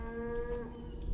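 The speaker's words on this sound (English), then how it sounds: "the cows are still here." Cattle lowing at a rural fishing spot, a sustained low moo held for about a second, faint and somewhat distant with no talk over it.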